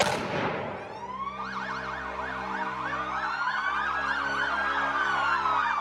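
Several sirens wail together at a commander's funeral tribute, rising and falling in overlapping cycles, loud and steady over a low rumble after a brief noisy start.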